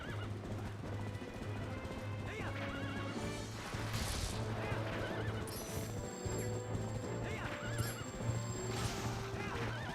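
In Twilight Princess, a galloping horse's hooves drum in a continuous rhythm while it lets out several shrill whinnies, mixed with busy game effects.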